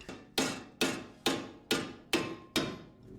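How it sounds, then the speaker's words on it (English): Six heavy metallic hammer blows on a seized Miata brake part land at a steady pace, each a sharp ringing clank that decays before the next strike, close and loud. "I'll just hit it with a hammer real quick."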